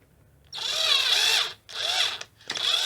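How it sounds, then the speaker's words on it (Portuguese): A cordless screwdriver-drill bores into plywood while a wardrobe is being assembled, running in three loud, whining bursts with short pauses between them. "a minha parafusadeira aqui, minha furadeira."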